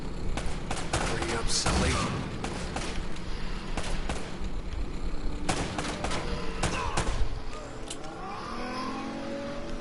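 Gunfire rattles through a PS4 action game, with repeated sharp bursts and shots over a busy mix of engine noise and effects, while a character speaks briefly over the fighting.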